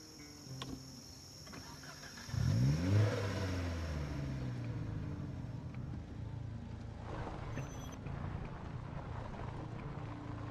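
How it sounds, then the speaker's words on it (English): A car pulls up close to a house at night, its engine swelling loudly around the third second and then settling into a steady low rumble, with insects chirping in the background. "let me bring the car closer to the house"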